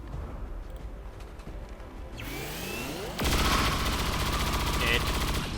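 Gunfire in the video game XCOM: after quieter game sounds and a rising whoosh, a loud sustained burst of rapid automatic shots fills the last seconds.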